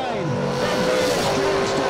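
A dragster at a drag racing box final rises in pitch as it accelerates away, a loud sweeping engine roar mixed with crowd and announcer noise.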